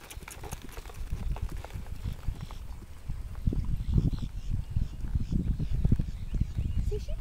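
Horse hooves clip-clopping steadily at a walk, close and moderately loud, a continuous rhythmic patter of footfalls, with faint voices in the background.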